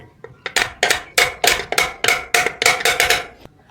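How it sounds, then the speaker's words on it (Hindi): A hammer strikes a sewing machine part about a dozen times in a steady rhythm, each blow a sharp, close metallic clink that rings briefly. "हमने यहाँ से हथौड़ी मारना है, यहाँ से"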